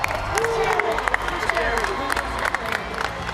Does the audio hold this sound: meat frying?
no